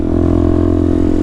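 A Benelli TNT 125 motorcycle fitted with a Black Widow exhaust idles loud and close, its small engine thrumming in a steady, even pulse with a throaty low rumble.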